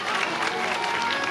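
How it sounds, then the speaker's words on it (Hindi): Dense applause from a large crowd at a Shrimad Bhagavat Katha religious gathering, steady and continuous throughout without letting up. "जोरदार तालियां बजा दीजिएगा"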